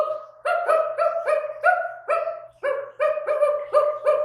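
A man imitates a dog, giving about a dozen quick, tonal barks in two bursts, close and loud, with a short pause between.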